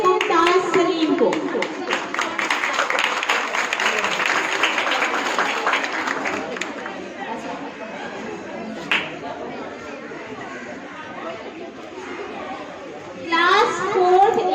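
Applause from an audience welcoming a guest at a school annual results ceremony, many hands clapping steadily for several seconds under chatter and children's voices, fading out, then a brief burst of clapping near the end.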